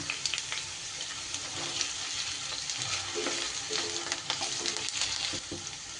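Grated ginger stirred and fried in a pan for a dalia pulao, heard as a loud continuous sizzle with a close, busy scraping of the spoon throughout.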